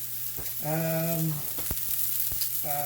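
Beef steak sears in a hot pan with a steady close sizzle, punctuated by a few sharp clicks and a couple of brief humming tones.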